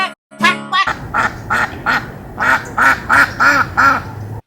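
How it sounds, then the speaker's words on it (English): A farm duck quacks loudly and close in a quick, steady run of about nine quacks, with a short higher call just before them. "With a quack quack here and a quack quack there, here a quack, there a quack,"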